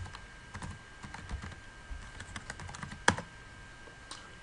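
Computer keyboard typing a command on a CentOS 7 Linux system, a quick run of light key clicks ending in one sharper, louder keystroke, close and alone with no talk.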